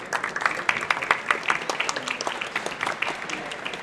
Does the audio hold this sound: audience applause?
yes